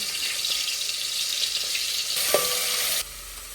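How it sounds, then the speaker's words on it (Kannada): Ginger garlic paste frying in hot oil, giving a continuous bright sizzle with a faint stirring scrape, cutting off abruptly near the end. "ಎಣ್ಣೆ ಬಿಸಿ ಆದ್ರಾಗ ಶುಂಠಿ ಬೆಳ್ಳುಳ್ಳಿ ಪೇಸ್ಟ್ ಹಾಕೋತೀನಿ"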